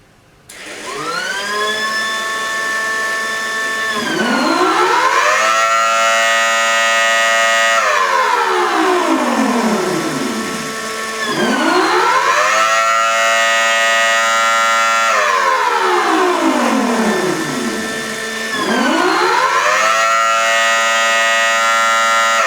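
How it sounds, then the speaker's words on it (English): A mini Thunderbolt siren with its horn pointed toward the listener sounds the attack signal, loud and close, its wail rising and falling in repeated cycles of roughly seven seconds, with no talking. "That's how the attack signal works on my mini Thunderbolt."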